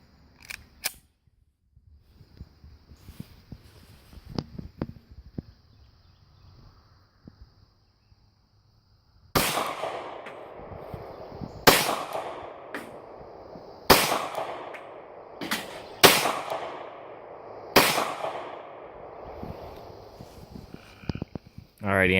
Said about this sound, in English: Just gonna shoot 5 through my CZ just like he did.